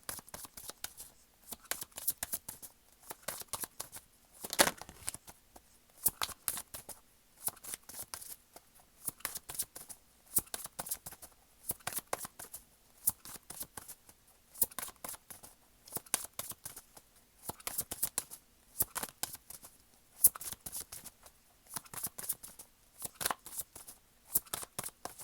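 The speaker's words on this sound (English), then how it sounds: "but let me go ahead and continue shuffling." Tarot cards are shuffled steadily for the whole stretch, a dense run of crisp riffling bursts repeating in quick rhythm, close and fairly quiet, with no voice.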